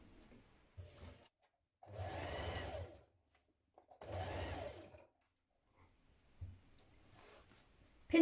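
A domestic sewing machine stitches a trouser waistband and zip guard in place, running in two steady bursts of about a second each with quieter clicks and short runs between them, close and alone.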